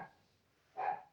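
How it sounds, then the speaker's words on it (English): A single faint, short dog bark sounds from some distance in a quiet indoor room, with a fainter yip just before it. "That's a dog."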